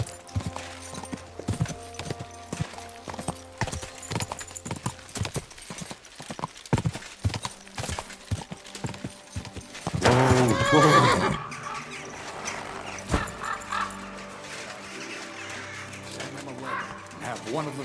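A horse in the medieval game Kingdom Come: Deliverance 2 clops along in a brisk hoof rhythm, then lets out a loud, shaky neigh, with a voice speaking briefly and birds faintly in the background.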